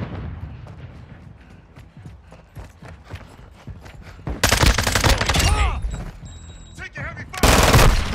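Gunfire in the video game Call of Duty Modern Warfare II, rapid bursts and scattered shots that grow loud and dense midway, with battlefield clatter and game voices underneath.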